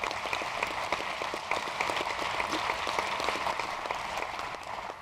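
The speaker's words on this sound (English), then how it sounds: "Let's give him a round of applause." An audience at a policy event on upstate New York's economy applauds Rich Toby, steady moderate clapping from a sizable crowd that holds evenly throughout.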